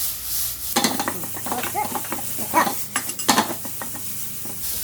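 Ingredients for Chinese-style chicken lettuce wraps are stir-fried in a pan with garlic and scallion, sizzling under rapid scraping and clattering of a utensil against the pan, close and busy.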